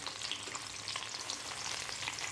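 Chopped tomato sautés in a hot pan for a cluster bean stir-fry, giving a steady, close, continuous sizzle and crackle with no voices.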